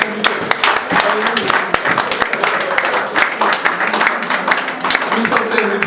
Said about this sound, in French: On va applaudir le Seigneur